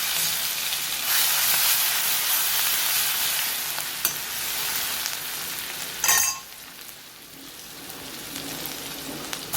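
Garlic and green chilies frying in hot oil, a loud, dense hiss and crackle that rises sharply as they hit the pan, then eases into a quieter steady sizzle.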